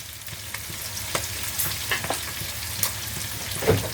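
Shrimp stir-fried in a hot pan with pepper and kaffir lime leaves sizzles steadily, with the crackle swelling in short bursts as the pieces are stirred and tossed.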